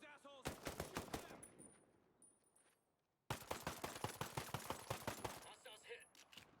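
Rapid automatic gunfire and bursts of shots in a firefight in the video game Ghost Recon Breakpoint, loud and continuous, pausing briefly midway before resuming, with game effects layered over it.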